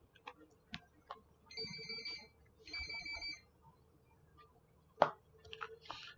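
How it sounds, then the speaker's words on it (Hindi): A mobile phone ringtone sounds during an online chemistry lesson, with repeated bursts of an electronic melody and a sharp click partway through, fairly quiet and heard without talk. "लगता है सौम्या पांडे का फोन आ रहा है और ज्वाइन करना चाह रही है।"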